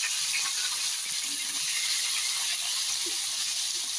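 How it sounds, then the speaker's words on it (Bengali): Fish frying in a pan of hot oil for a Bengali shol fish kalia, giving a steady, dense hiss and sizzle throughout, fairly close and uninterrupted, with no talking. "এই তেলেই আরো মাছ রাখা মাছগুলো আমি ভেজে নেব।"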